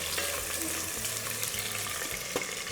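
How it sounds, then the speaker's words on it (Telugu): Green chilies frying in hot oil for drumstick sambar, a soft steady sizzle with faint stirring clinks and a voice murmuring in the background. "పచ్చిమిర్చి ఇది కాస్త వేగనివ్వాలి"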